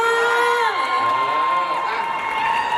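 Audience at a campus star contest introduction round cheers and shouts for contestant Oscar, a loud continuous crowd roar with whoops, steady throughout with voices mixed in.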